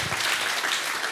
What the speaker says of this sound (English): that's how we can clap for that